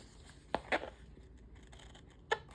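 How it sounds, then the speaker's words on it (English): Scissors snip and trim, a few short sharp cuts close by in a quiet room, with a longer pause before the last cut. "I'm gonna trim it. We'll trim it so we can."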